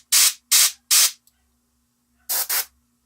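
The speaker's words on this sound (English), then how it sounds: "I'm going to spray the back side of it as well." Spray can painting a miniature turtle figure: three short close bursts, a pause, then two more quick bursts, each a sharp hiss against silence.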